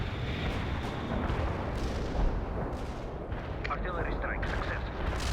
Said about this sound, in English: Artillery strike successful. We hit the enemy in the strike zone.